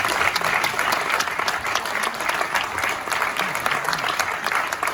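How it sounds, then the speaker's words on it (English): A reunion Q&A audience for the 1981 horror film My Bloody Valentine gives steady, dense applause for departed cast and crew members, sustained and even throughout at a fairly loud level. "how about a round of applause for our dearly departed friends"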